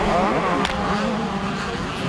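125cc motocross bikes racing on a track at Long Lane, a loud continuous engine drone with shifting pitch as machines rev past, close and dominant, with a commentator's voice running over it.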